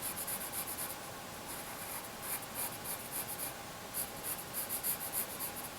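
Crayon drawing over a pencil sketch, close soft scratchy rubbing strokes on paper repeating in quick irregular bursts with short pauses.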